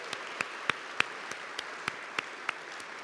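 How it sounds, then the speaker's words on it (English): Scattered hand claps sound faintly as a small audience marks a 100th birthday. About ten separate, uneven claps are spread over a few seconds, with no steady ovation. "let's give Paul a round of applause"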